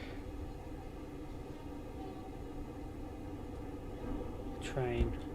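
Slow-moving train in the SCR Roblox railway game, a steady low rumble and hum running throughout, with a brief whistle-like tonal rise near the end.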